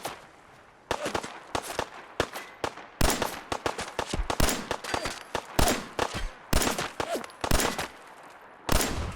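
Gunfire in the video game Fallout 4, a rapid string of sharp shots in irregular bursts, some spaced apart and some in quick clusters, loud and punchy against a quiet background.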